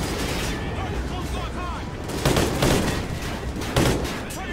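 Gunfire from the video game Call of Duty: Ghosts crackles in dense bursts, with several louder reports standing out over a constant rumbling battle background.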